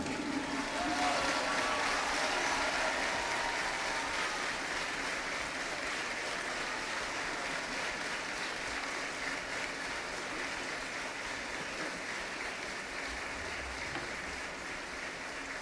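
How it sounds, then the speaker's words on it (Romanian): A concert audience at an outdoor symphonic evening in a park applauds the conductor, sustained dense clapping that starts loud and eases slightly over about fifteen seconds. "Doamnelor și domnilor, aplauze pentru maestrul Dumitru Cârciumaru!"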